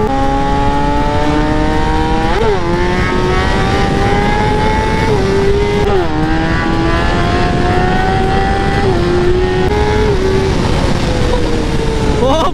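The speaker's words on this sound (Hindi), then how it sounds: "कुछ ज्यादा ही भाई तेज थी भाई बाइक।" A motorbike speeds along an open road, its engine droning loud and close in a steady rising whine that briefly dips and climbs again between gear changes, with wind rush throughout.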